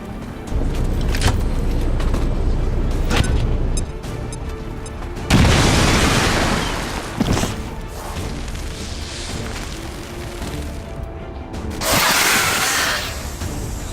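A grenade goes off in the XCOM 2 video game with a heavy booming blast, one of several loud bursts and crashes set among rumbling game sounds and music.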